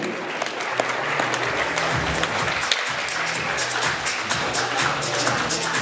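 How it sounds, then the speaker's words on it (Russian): Sustained applause from a crowd at a talent contest, for the jury, dense clapping that continues steadily throughout, with a low hum underneath. "Аплодисменты нашим членам жюри!"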